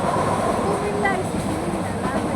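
The Cox's Bazar Express runs through hilly countryside, heard as a steady, continuous rumble and rattle from inside the train, with faint voices mixed in.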